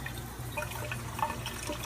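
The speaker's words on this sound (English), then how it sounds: "I'm going to water them." Water is poured over sprouting beans, a close, soft trickling splash with a brief gurgle partway through.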